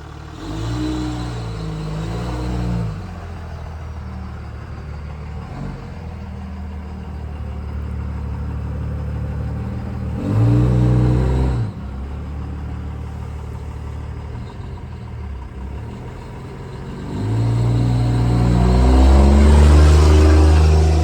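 Car engine idles close by for a long stretch, swelling a few times as it creeps and pulls up, a steady low rumble that grows louder toward the end.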